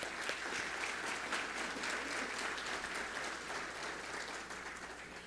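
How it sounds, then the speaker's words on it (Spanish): Audience at a breakfast event of an insurance brokers' association applauds, an even, continuous roll of clapping heard from some distance at a modest level, with no talk over it. "Un fuerte aplauso para él, por favor."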